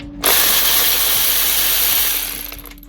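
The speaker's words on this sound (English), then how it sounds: "what I'm going to do is take this 13mm bolt off" A ratchet spins a 13mm bolt loose on a 2018 Vauxhall Viva during clutch replacement work, giving a loud, dense, continuous rattling whir for over two seconds that cuts off abruptly.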